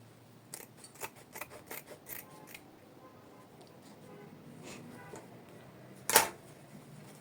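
Scissors snip fabric open at a notch while sewing a bubble skirt, a series of quick close cuts followed by softer rustling and one sharper snip near the end.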